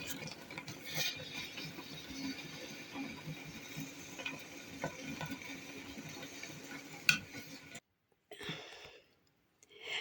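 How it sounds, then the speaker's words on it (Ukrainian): Lids are screwed onto glass jars of hot apple jam, with faint close ratcheting scrapes and small clinks over a quiet kitchen background. A short silent gap comes near the end. "Накладаю варенячко в банки, кришки також стерилізовані, і буду закручувати"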